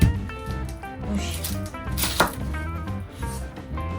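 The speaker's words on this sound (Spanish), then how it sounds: "vamos a ir cortando la cebolla" A knife chops an onion on a board for a Spanish potato tortilla, with quick, rhythmic cuts close by and no talking.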